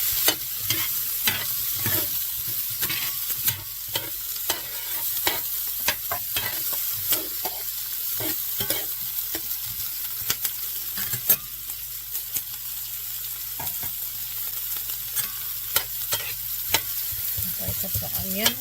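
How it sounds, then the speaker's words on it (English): Butter melting in a pan for shrimp scampi, stirred steadily, with a soft continuous sizzle and repeated clicks and scrapes of the utensil against the pan, close and even throughout with no talking. "I'm just going to mix this all up. Mix my butter up."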